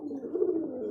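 A pigeon coos softly and continuously for about a second, a low, close murmuring call.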